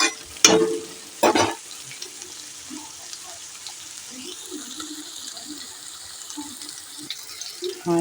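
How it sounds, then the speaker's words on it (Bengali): Bitter gourd slices frying in oil in a pan make a soft, steady sizzle, broken by a few louder clattering stirs or scrapes near the start. "দেখতে পাচ্ছেন ভাজা হয়ে গেছে হালকা হালকা এবার আমি তুলে নেবো"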